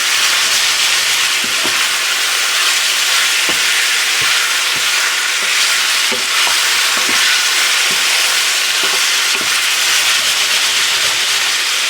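Food cooking slowly in lard in a pan on a stove, a steady dense sizzle and hiss running unbroken throughout with faint scattered pops and ticks underneath.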